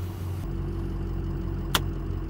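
Low, steady diesel rumble of a concrete pump truck arriving at a pour site, continuous and moderately close, with one brief sharp clank partway through.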